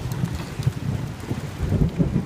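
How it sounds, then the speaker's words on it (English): Thunder rumbles low and steady beneath rain during a lightning storm, swelling in waves near the end, with no voices. "I think I just got a lightning bolt on camera."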